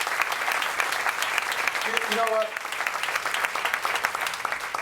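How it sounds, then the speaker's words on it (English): An audience at a campus ceremony applauds at length, a thick, sustained wash of clapping with a brief voice cutting in midway and the clapping continuing around it. "Let's give Sonia a round of applause for all that she does."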